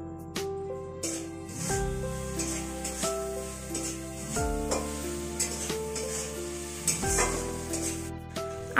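Potatoes fry with spices and sauce in a pan for a spicy rohu fish curry, giving a steady sizzle and crackle with stirring scrapes, loud and close, alongside background music with no talk.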